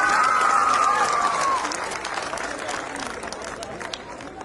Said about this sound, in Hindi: जोरदार करताली गोटे दिंतु अरिंदम भाई।